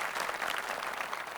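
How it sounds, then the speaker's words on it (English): Audience applause at an AWS public sector keynote in New Delhi, a brief even burst of many hands clapping heard from a distance, fairly quiet throughout. "I think this deserves a round of applause"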